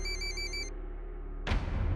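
A telephone rings with a warbling electronic tone that stops after a few pulses, then a louder burst of rustling or handling noise follows, nearby and with no talk.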